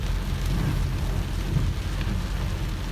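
Steady rain falls around a rural house entrance where grass has just been planted, a dense, even wash of patter that stays constant throughout with no voices.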